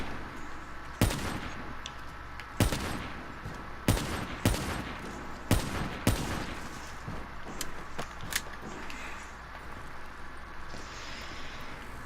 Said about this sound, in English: So I have the Drakon with rapid fire and fast mags, I think.